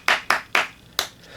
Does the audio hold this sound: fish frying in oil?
no